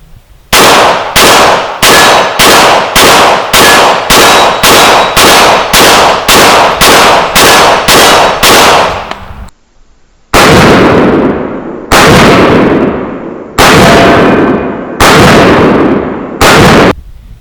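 A Glock 20 pistol fires 10mm rounds outdoors: a rapid string of about fourteen loud, sharp shots, a brief pause, then five slower, evenly spaced shots with ringing decays.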